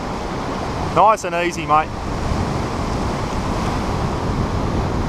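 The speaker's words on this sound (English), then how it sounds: "Waves coming out now, nice and slow." Surf rolls steadily onto a beach on Fraser Island, a continuous wash of noise mixed with wind buffeting the microphone, while someone briefly speaks near the start.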